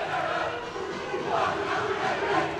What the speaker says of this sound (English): For the student section for the Wildcats, on their feet, cheering